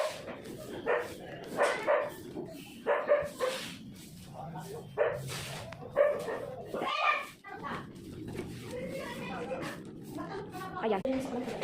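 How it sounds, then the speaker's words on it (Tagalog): A dog barks and yips repeatedly in a home kitchen during cleaning, short bursts at moderate distance mixed with a voice and other talk. "Ingay ng aso, eh."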